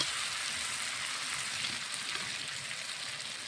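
Oil sizzles steadily in a pan as it spreads during frying, a soft even hiss with no break and no talking.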